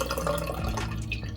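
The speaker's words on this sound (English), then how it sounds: "Turn the water on, and I have nice hot water to wash all the germs off my hands." A hand-washing tap runs hot water in a steady rushing stream close by, with small splashing drips throughout and no one talking.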